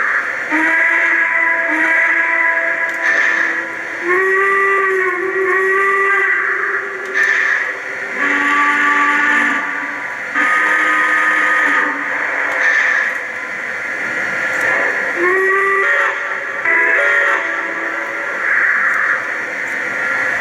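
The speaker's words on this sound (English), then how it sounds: "every time I turn this engine on, it always switches to another whistle" An O-scale model train engine sounds its whistle again and again, cycling through different whistle tones. Sustained, loud toots follow in close succession, with short gaps between them and steady rumbling underneath.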